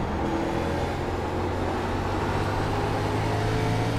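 A NASCAR race car engine in the iRacing sim holds a loud, steady drone as it pulls under throttle, its tone climbing slightly toward the end.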